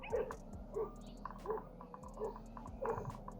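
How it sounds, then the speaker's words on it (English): In a backyard, dogs bark at a drone overhead, giving faint distant barks about every three-quarters of a second over a steady low whirring hum. "These dogs."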